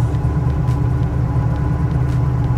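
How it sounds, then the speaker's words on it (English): Inside an Ultima car driving through town, a steady low engine and road rumble continues without a break, close and fairly loud, with no voices over it. "give you a cockpit view of what it's like to drive the Ultima through town and out and down the road"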